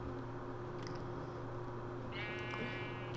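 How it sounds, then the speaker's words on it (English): A Minecraft sheep from the Better Breeding mod bleats once, a short clear game bleat late in the clip over a steady low electronic hum. "He's a meat sheep."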